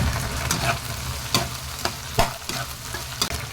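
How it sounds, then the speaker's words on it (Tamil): Ginger garlic paste, curry leaves and tomatoes sauté in a hot pan while being stirred, giving a steady close sizzle broken by scraping stir strokes every half second or so. "இஞ்சி பூண்டு பேஸ்ட் வந்து பச்சை வாடை போகிற வரைக்கும் நல்லா வதக்கிக்கலாங்க"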